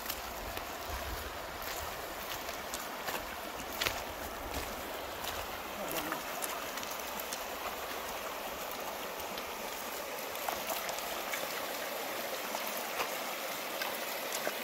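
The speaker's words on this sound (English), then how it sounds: "Water crossing number 21" Stream water rushing at a water crossing on the Eagle Rock Loop Trail, a continuous broadband wash with small splashes and clicks, steady and close throughout.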